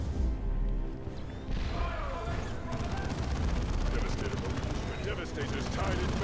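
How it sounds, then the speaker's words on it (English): A tactical squad returning fire in a video game: dense crashing gunfire and explosive impacts under game voice lines and talk, loud and busy throughout. "Tactical squad, return fire"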